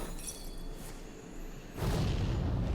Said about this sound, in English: Yep, that was the explosive trap.